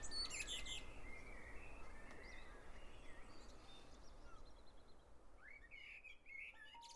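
A blackbird sings outdoors. A few faint, high chirps and song phrases rise over a steady low background hum, with a brief burst near the end.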